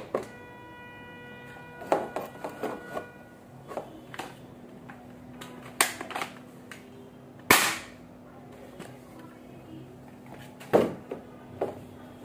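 An M416 toy gun fires plastic bullets: a run of sharp mechanical clicks and ratchets, then two loud, crisp snaps several seconds apart, close by with a low steady hum underneath and no talking.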